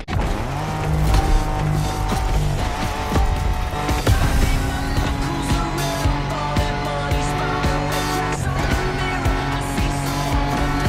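Off-road racing in The Crew Motorfest: a steady roar from a car engine with tire squeal and skidding over loose ground, holding loud and continuous throughout with a music-like tonal layer beneath.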